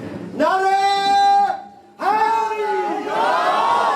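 A crowd at a religious gathering in Sargodha loudly chants slogans in unison, two sustained shouted calls with a brief gap between, then the crowd's voices rising again.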